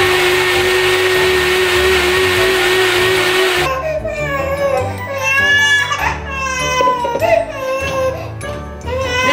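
A blender purees strawberries for homemade baby food, whirring loudly and steadily for about three and a half seconds before it stops. A baby then cries and fusses up close.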